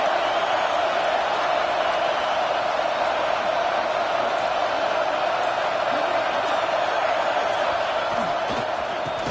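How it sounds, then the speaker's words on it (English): Loud, roaring stadium crowd at a college football game, a dense steady wall of cheering and noise that never lets up, with faint commentary-like voices mixed in. "wow, listen to this crowd noise. This stadium is vibrating."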